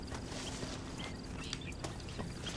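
Horse hooves clip-clopping in the Red Dead Redemption video game, a quiet, steady walking rhythm of hoof taps over a faint background hum.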